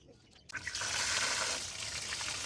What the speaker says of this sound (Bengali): এইভাবে ধুয়ে ফেলতে হবে টিউবারগুলোকে, মাটিগুলোকে ধরিয়ে ফেলতে হবে, মাটি রাখা যাবে না।